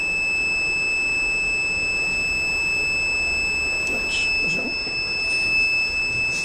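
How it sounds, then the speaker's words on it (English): An access control system buzzer at a granary entrance sounds continuously after an access-denied event, a steady, unbroken electronic tone running throughout with faint background noise. "The buzzer is continuously on."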